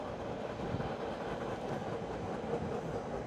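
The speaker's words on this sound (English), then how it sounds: "I was waiting for the train" A train rolls past in Boston with a steady, dense rumble and a faint rattle of wheels on rails. The noise holds at a fairly even level throughout with no voices.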